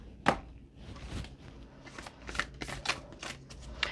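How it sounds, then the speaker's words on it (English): Soft, slippery printed Living Reiki cards shuffled by hand, giving a series of quick papery riffles and flicks in irregular bursts, close and fairly quiet, with no talking. "They're very, they're soft and slippery, so you can't shuffle them too fast"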